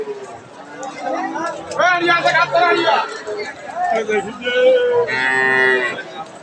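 A pregnant Holstein Friesian dairy cow at a cattle market lets out several loud, nearby moos amid constant chatter and crowd babble.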